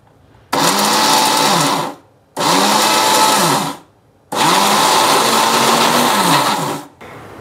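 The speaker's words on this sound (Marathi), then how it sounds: "आपण थोडंसं मिक्सरमध्ये फिरवायचं" A mixer grinder whirs loudly in three separate bursts, each a second or two long with short pauses between, grinding semolina with cardamom for rava laddoo.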